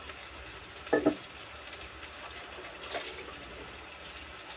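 Amaranth stems frying with salt in a pan: a continuous, quiet sizzle runs throughout, broken by a couple of brief clattering stirs early on and a softer scrape later.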